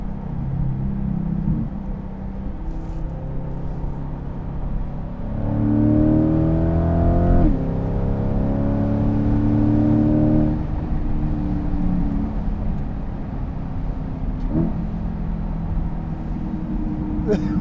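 A 2020 C8 Corvette fitted with a Fabspeed Valvetronic exhaust, set to track mode, revs loudly with rising and falling engine pitch and sharp backfire crackles, its steady drone running throughout.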